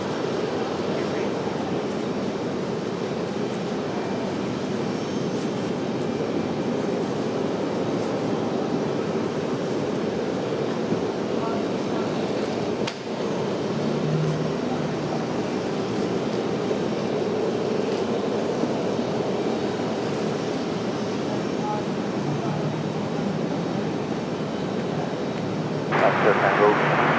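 An Air France airliner's jet engines at Raleigh-Durham airport give a loud, sustained broadband roar that stays steady throughout, with voices faintly mixed in beneath it.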